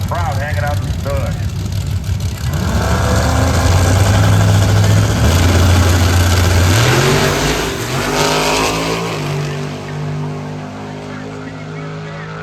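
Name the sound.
drag car with single-turbo LS engine revving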